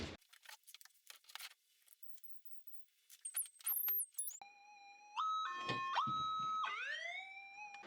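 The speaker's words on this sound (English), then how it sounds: "We're going to go ahead and turn this detector on" Minelab SDC 2300 metal detector fitted with a Coil Tech 10x5 Gold Extreme coil being switched on, with handling clicks and rustles followed by a series of loud electronic startup beeps and rising tones.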